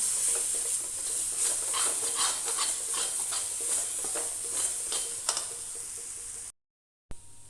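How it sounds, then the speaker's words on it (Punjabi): Moong dal roasting in a pan on a low flame gives a steady dry sizzle and rustle, with a spoon scraping and stirring through it in repeated strokes, then a brief drop to silence. "ਦਾਲ ਨੂੰ ਆਪਾਂ ਚੰਗੀ ਤਰ੍ਹਾਂ 10 ਮਿੰਟ ਲਈ ਲੋ ਫਲੇਮ ਤੇ ਭੁੰਨਾਂਗੇ"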